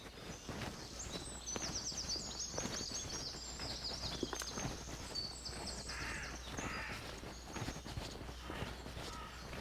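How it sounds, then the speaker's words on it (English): Crows caw repeatedly in a valley near Nash Point on the Welsh coast, the harsh calls rising above a soft outdoor background of footsteps and light rustling. "Listen to those birds."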